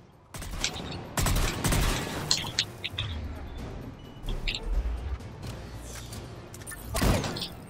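Gunfire from a weapon in Mass Effect Legendary Edition, sharp irregular shots and bursts at moderate volume with mechanical clicks between them, no speech.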